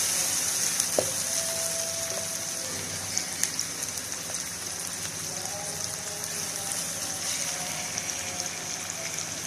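Masala with ginger frying in a pan for an egg and dal curry, giving a steady, soft sizzle and crackle close by with faint clinks throughout.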